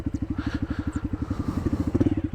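A motorcycle engine chugs close by at low revs, a fast, even thumping pulse that turns slightly rougher and louder toward the end; no voices.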